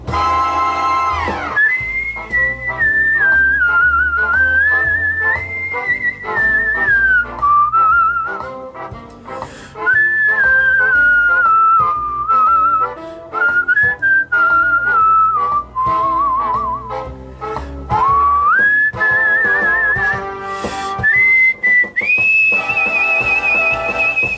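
A person whistles a tune, clear and close, with smooth gliding notes and brief pauses over roughly twenty seconds.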